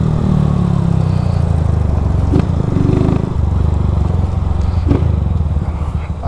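A Honda Fan 160 motorcycle with a Dore exhaust runs loud and close, its engine droning steadily with brief dips and surges as gears are shifted, set against a busy background.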